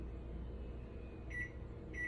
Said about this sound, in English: Setting my timer.